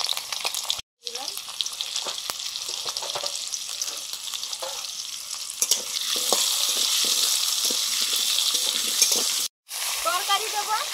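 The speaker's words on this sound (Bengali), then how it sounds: "আগে দিয়ে দিচ্ছি আলু, সব সবজিগুলো একটু ভেজে নেব।" Potatoes and vegetables for a cabbage curry sizzle steadily in hot oil, with intermittent stirring scrapes and a couple of brief breaks, some voice faintly in the background.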